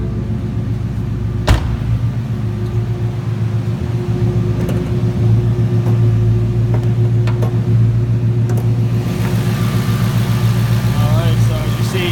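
A Ford Mustang engine idles with a steady, even low rumble heard up close under the open hood, with a few faint clicks on top and someone talking over it.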